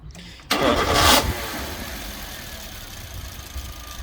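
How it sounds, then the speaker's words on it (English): A Suzuki Swift engine catches and starts with a loud burst, then settles into a close, steady idle with a faint light rattle from a loose one-way valve underneath. "you can still hear that little one-way valve rattling, but it is running a little better"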